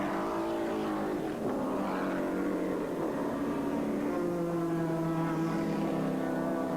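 Corvette race cars are driven hard through the turns, with a continuous loud engine roar and shifting pitch from several cars in a steady wash of sound with no break.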